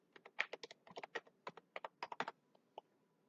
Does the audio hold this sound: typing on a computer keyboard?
yes